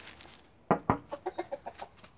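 Laying hens in a Melbourne backyard cluck in a quick run of short, close, rhythmic calls after two louder opening squawks, with no talk.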